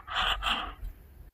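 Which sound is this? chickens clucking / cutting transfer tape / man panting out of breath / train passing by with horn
man panting out of breath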